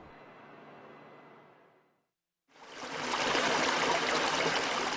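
Storm floodwater rushing through a street, first a moderate steady flow, then a short silence, then a much louder, fuller rush of water that carries on to the end.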